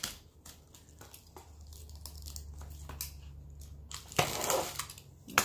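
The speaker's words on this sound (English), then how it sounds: "Let me go ahead and get the pages out first." Pages are pulled from a hardback book for a junk journal, paper crinkling and tearing close by in soft rustles under a low hum, ending in a louder burst of ripping.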